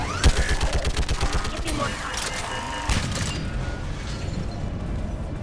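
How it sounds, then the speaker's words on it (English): Heavy .50 cal turret gun in Mass Effect hammering out a fast, steady rhythm of loud close shots, then giving way to mechanical clanks and battle noise with a voice talking over it. "Fire up that 50 cal."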